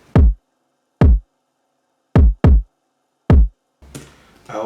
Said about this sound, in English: I added this kick.